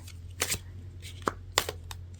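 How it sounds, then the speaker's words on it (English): Tarot cards being shuffled in a quiet room: a few soft, separate riffling bursts spaced irregularly over a low steady hum, with no talking. "As I'm shuffling out your cards"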